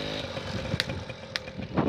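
A trail motorcycle engine revs and accelerates with a continuous buzzing drone, a couple of sharp clatters cutting through as it pulls along the trail.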